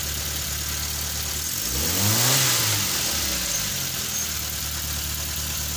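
A car engine revs after its distributor timing has been adjusted: a steady idle rises into one smooth rev, then falls back to idle, loud and close, with no talk.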